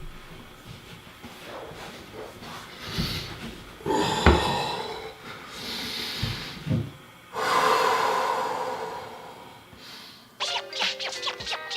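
A person lying on their back during a home enema breathes slowly and deeply, with long, close, audible inhales and exhales, a few sharper snorting breaths, and a rustle near the end.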